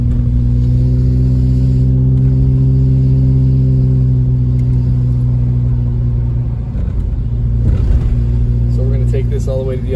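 A car drives through back streets on a cold, wet day, with a loud, steady low engine drone and rumble from inside the cabin. The engine briefly shifts in tone before settling again.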